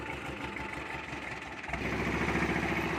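A small tractor with a rotary tiller and a four-gear transmission runs steadily and close by, its engine droning throughout, then rising to a fuller, louder churn partway through as the tiller spins.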